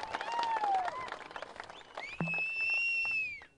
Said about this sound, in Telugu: వారికి చప్పట్లతోని స్వాగతం పలకండి మిత్రులారా